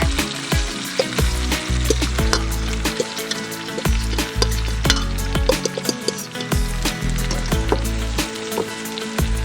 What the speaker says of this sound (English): we know the pan's hot because we got a little bit in there and it's sizzling